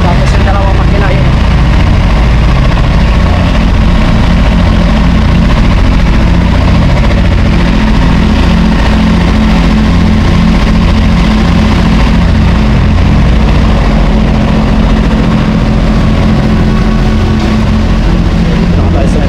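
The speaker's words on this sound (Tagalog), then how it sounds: "Tapos yung dalawang makina yun." Two boat engines idle together in a steady, loud, low rumbling drone with constant throbbing vibration, close by and unbroken throughout, likely with voices partly buried under the noise.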